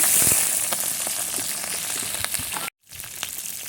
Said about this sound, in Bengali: আমি চিংড়িটা দিয়ে দিলাম